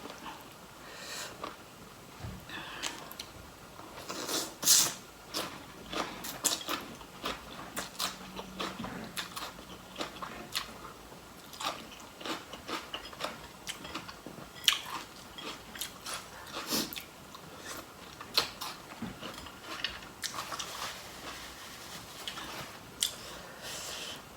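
Homegrown sweet pepper being bitten and chewed close up, with repeated crunchy bites and wet mastication sounds in an irregular rhythm over about twenty-four seconds, with no talking.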